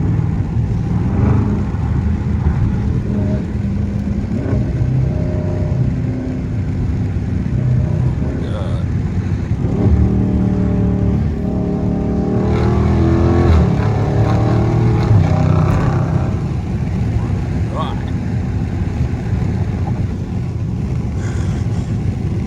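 Night drive in a blacked-out Dodge Charger Scat Pack, its engine rumbling steadily throughout and swelling louder around the middle as it revs, with talking over the engine noise.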